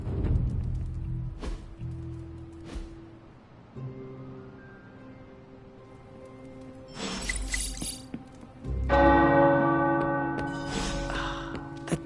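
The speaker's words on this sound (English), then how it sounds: "The tower bells are ringing." Tower bells ringing in Marvel's Midnight Suns, with resonant tolls layered over a low game ambience that swells into a louder, brighter peal toward the end, with no speech.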